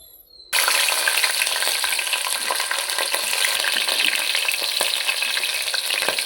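Onions fry in hot oil for a palav, a dense, steady sizzle that erupts all at once after a short quiet start and holds loud and close, with faint stirring clicks throughout.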